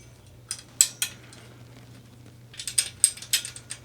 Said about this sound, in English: I'm just going to start putting screws in.